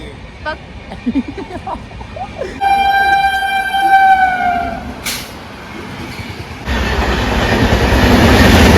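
A goods train passes nearby, with a rumbling, rattling roll of wagons and a loud horn blast midway, while people talk over the passing cars.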